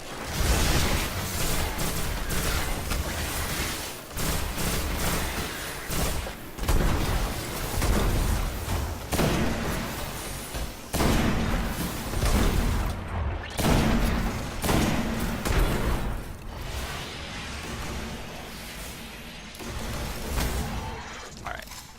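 Dense gunfire and explosions from combat in the Destiny video game, with bursts of shots and heavy booms running almost continuously and loud.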